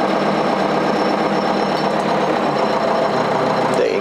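A Ford 7610 tractor of about 100 horsepower, fitted with an Ålö front loader, idles steadily with a constant mechanical clatter and drone, close and continuous for the whole stretch, with no talk.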